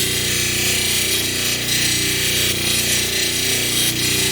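Stone cabochon collar being ground lightly on a lapidary wheel, a steady continuous abrasive whir and rub held at an even level throughout, with no talking.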